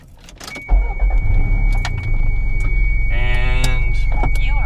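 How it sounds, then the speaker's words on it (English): A loud car engine starts with a sharp burst and settles into a deep, steady idle rumble that fills the background, with a few clicks and a power-window whir near the end. "And this car's louder than my car."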